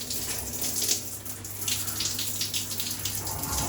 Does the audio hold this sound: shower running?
yes